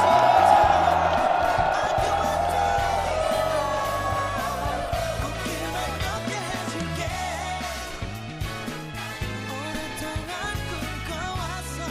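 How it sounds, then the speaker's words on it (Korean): Crowd at a 2021 police officer appointment ceremony claps and cheers for the president and first lady, a loud sustained wash of applause with yells and whoops that eases slightly and continues steadily throughout. "감사의 마음을 담아서 대통령 내외분께 다시 한번 큰 박수와 환호 부탁드립니다."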